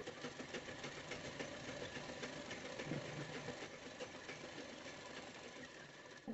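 Sewing machine running steadily while stitching the neckline of a designer blouse, a continuous low mechanical whir with faint rhythmic clatter, fairly quiet and without talk.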